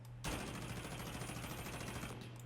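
Rapid automatic MP7 fire from a Shadow Company gun addon in a video game, a steady close burst of evenly spaced shots running unbroken for a couple of seconds after a brief lead-in, with no voices.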